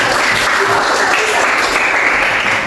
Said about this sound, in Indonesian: Pas tepuk tangan dulu buat kelompok asal